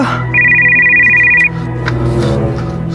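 A telephone ringtone chirps steadily for about a second before the call is answered, loud and close over a continuous background hum, with no talk.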